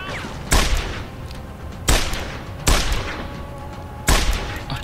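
Revolver gunshots in the video game Deus Ex: Human Revolution: four loud, sharp single shots with short echoing tails, spaced unevenly over a few seconds, with no talk over them.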